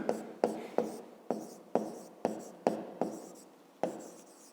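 Pen or pencil writing on paper during a 5th-grade maths exercise, a run of crisp, close scratching strokes repeating steadily about every half second, with no talk.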